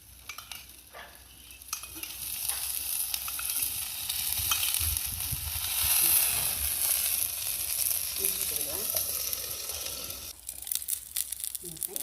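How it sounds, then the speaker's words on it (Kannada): Adai rotti, a lentil flatbread, fries in ghee on a pan with a steady, close hiss and crackle. The sizzle swells in the middle and then thins toward the end. "ಒಂಚೂರು ತುಪ್ಪ ಹಾಕೊಂಬತ್ತೆ."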